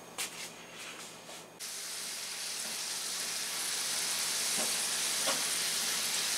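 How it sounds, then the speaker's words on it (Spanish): Garlic frying in about a quarter cup of oil, a steady broadband sizzle that jumps louder after a brief quieter start and holds on alone with small crackling pops. "Y ahí vamos a poner a freír nuestros ajos"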